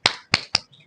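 Hand claps struck palm against palm as part of a breathing and exercise routine, three sharp close claps in quick succession followed by a softer fourth, no speech.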